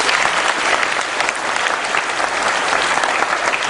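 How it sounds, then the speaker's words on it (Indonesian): Audience applause, a dense and loud continuous roar of many hands clapping that holds evenly from start to finish. "Jadi tepuk tangan untuk Anda semua."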